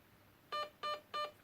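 Three evenly spaced electronic beeps from the programming of a Lonex LT595 airsoft gun, short and bright against near silence.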